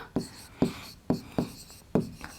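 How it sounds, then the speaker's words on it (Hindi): Chalk or pen writing numbers on a board for a primary maths lesson on money, about five distinct scratchy strokes in an uneven rhythm, close and clear with no talking. "सबसे पहले हम यहाँ लिखेंगे एक"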